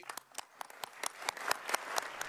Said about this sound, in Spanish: Recibido con aplausos